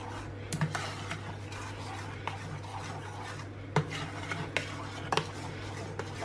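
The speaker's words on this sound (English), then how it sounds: "we'll add in our ground almonds or almond flour. And we'll mix it in until we've got a beautiful brownie batter." A spoon stirs ground almond flour into thick brownie batter in a bowl, making soft scraping and swishing with occasional light clinks against the bowl, fairly quiet and close.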